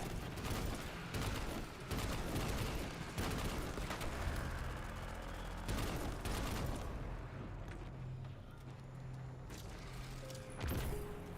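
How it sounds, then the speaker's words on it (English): An SMG fires in the video game Destiny 2 in sustained rapid bursts of automatic gunfire. The shots are loud and continuous, then thin into scattered shots and softer game sounds with a brief pause near the end. "blasting them with my SMG"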